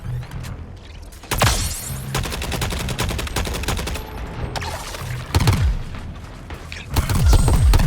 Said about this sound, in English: It's shooting the big shell!